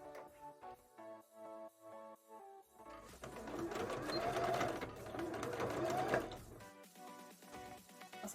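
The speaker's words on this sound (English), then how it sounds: "So I'm sewing it this way again just because I want the frills to lie facing down" A domestic sewing machine stitches frills onto a jellyfish-style bra, first in short rhythmic bursts, then a longer steady run of needle chatter before stopping into more short stitches.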